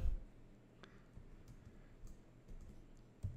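A search term is typed on a computer keyboard as a quick run of faint, close key clicks at an uneven pace in a quiet room.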